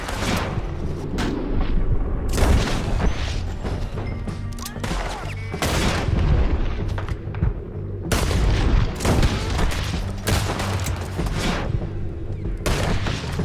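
Gunfire erupts in the Red Dead Redemption 2 video game, repeated loud shots and booming blasts in clusters, some close and some farther off, with chaotic battle noise between them.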